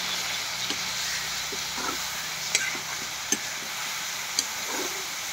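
Steady sizzling and hissing of pork frying in a pan with mustard greens and coriander, with occasional scraping stirs and clinks, no talking.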